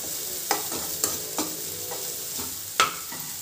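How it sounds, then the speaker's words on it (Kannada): Curry leaves with green and dry chillies frying in a pan, a steady soft sizzle broken by a few sharp spatter pops and spoon knocks, close and alone without voices. "ಹಸಿ ಮೆಣಸಿನಕಾಯಿ ಒಣ ಮೆಣಸಿನಕಾಯಿ ಎರಡು ಹಾಕೊಳ್ತಾ ಇದ್ದೀನಿ ಫ್ರೈ ಮಾಡ್ಕೊಳ್ಳಿ"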